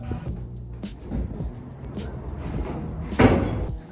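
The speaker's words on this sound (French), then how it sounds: "Je vais ouvrir les volets, c'est ma seule mission." Window shutters being opened in a house, a soft rustling and creaking with a sharper clatter near the end as the shutter swings, no talking.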